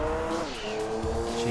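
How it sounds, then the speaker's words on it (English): A race car in Gran Turismo 2 oversteering with wheel spin, engine revving under sharp, shifting tire squeal and skidding in one short burst. "Look at the oversteer and the wheel spin."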